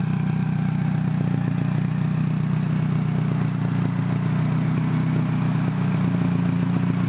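A turbocharged VW Bug engine with small baffles in the tailpipes runs at a steady, close, muffled idle, a continuous low drone with faint clatter and no change in pace.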